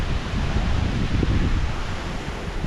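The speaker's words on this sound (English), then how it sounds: "Here comes a pretty good gust of wind now." Strong wind roars steadily during Cyclone Kirrily, a dense, even rush of gusting air with rain noise mixed in, loud and close with no pauses.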